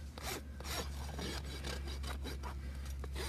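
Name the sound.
rasp filing flare off a horse's hoof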